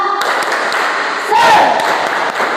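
Classroom students perform a rhythmic group clap chant, short bursts of clapping and thumps under a steady din of young voices, with a raised shout near the middle.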